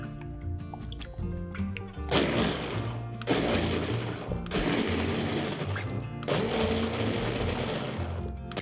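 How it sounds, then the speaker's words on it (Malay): An electric blender grinds chili sambal with sweet soy sauce, roaring loud and close in long bursts with brief pauses between, the coarse mixture churning and whirring inside the jar. "Kisar sampai jadi kasar macam ni."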